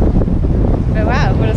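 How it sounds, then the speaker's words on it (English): Strong seaside wind on the coast near Argostoli, Kefalonia, Greece, buffets the microphone in a loud, continuous low roar, with a voice speaking briefly over it. "It's pretty windy out here, so I'm hoping you can hear us."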